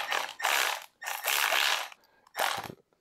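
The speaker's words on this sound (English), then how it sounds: "we do have a Milwaukee M12 3/8 ratchet. So let's put on some sockets" A Milwaukee M12 3/8-inch cordless ratchet fitted with an impact socket spins in three short whirring bursts with brief pauses between them, sounding close and mechanical.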